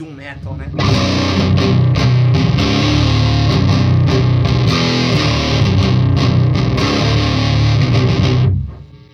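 Electric guitar played through a Mesa Boogie Mark 25 amp with heavy bass and thick, muddy distortion, a loud sustained doom metal style riff that rings steadily for about eight seconds before cutting off.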